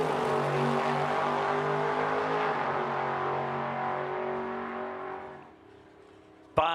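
A 1968 Chevelle launches down a drag strip, its engine roaring loud and sustained as it pulls away and fades into the distance, followed by a sharp click near the end.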